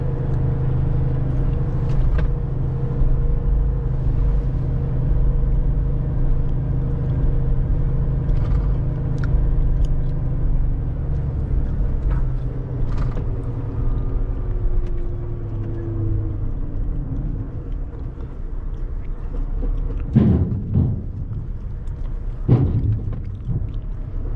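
A car climbs an incline with its gearbox held in manual mode, giving a steady low engine rumble that holds and gradually drops, with a few sharp knocks and thumps near the end.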